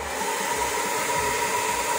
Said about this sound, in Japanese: この X ブースト機能でドライヤーが動くかどうかもチェックしてみます。 まず一番弱のクールでやってみます。